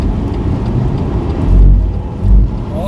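A car overtakes another vehicle while accelerating hard in sport mode, its engine note building into two loud low surges against steady road and wind rumble inside the cabin.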